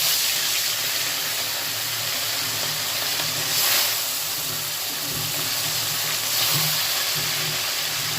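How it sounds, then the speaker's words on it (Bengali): Pieces of rohu fish fry in hot oil in a pan, giving a steady loud hiss and sizzle that runs unbroken throughout, with slight swells in intensity and no talking. "আমি প্রথমেই মাছগুলোকে ভেজে নেব।"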